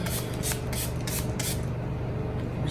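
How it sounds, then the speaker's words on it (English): Kiss Beauty Makeup Fix refreshing mist setting spray is pumped in four quick hissing bursts, close and loud, over a constant background hum. "I'm going to be going in with my setting spray from Kiss Beauty."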